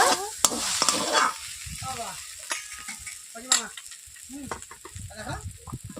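Potato, eggplant and bitter gourd stirred as they fry in oil for a mixed vegetable dish, a steady sizzle broken by scraping strokes and sharp clacks of the spoon against the pan.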